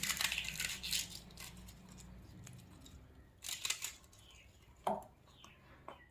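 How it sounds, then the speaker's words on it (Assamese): Cabbage cut into large pieces in a home kitchen, heard as a series of close, crisp cutting crunches in irregular bursts with quieter gaps between. "এতিয়া মই ইয়াত বন্ধাকবি ডাঙৰ ডাঙৰকৈ কাটি দি দিম"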